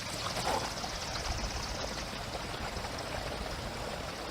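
Water drains from an RV gray water tank in a steady rushing, splashing flow, loud and continuous throughout with no voices.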